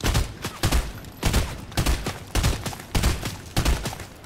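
Repeated bursts of video game gunfire in burst-fire mode, roughly six quick clusters of shots spaced evenly about half a second apart, loud and close with no talking.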